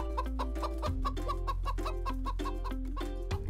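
A hen in a peasant's cabin clucks repeatedly in quick, rhythmic bursts, close and clear, over a steady low drone of background music.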